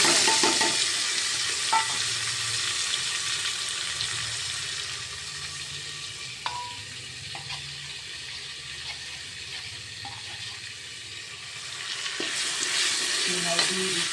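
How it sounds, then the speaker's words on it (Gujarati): Tomatoes and chillies sizzle steadily in hot tempering oil with curry leaves for dal dhokli, a continuous frying hiss with occasional stirring clinks throughout. "તો આપણે ટમેટા અને મરચાંનો વઘાર આપણે કરી નાખીશું."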